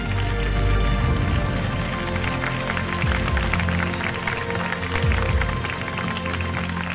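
Studio audience applauding on an Italian talent show, a dense steady wash of clapping with crowd noise and background music running underneath throughout.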